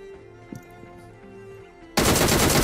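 Sudden burst of loud, dense gunfire in the mobile battle royale game PUBG Mobile, arriving abruptly after a quieter stretch and continuing to the end.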